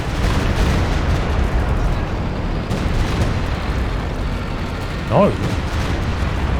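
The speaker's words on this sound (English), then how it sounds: "Recon run plus the rocket barrage going through." Rocket barrage explosions rumble through a Company of Heroes 2 match, a dense, continuous low roar of overlapping booms that stays loud throughout, with a brief spoken word near the end.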